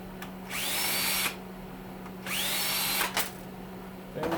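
Power drill backing screws out of a heater during a teardown, two sustained whirring bursts each about a second long with a short blip between, close and fairly quiet against a steady low hum.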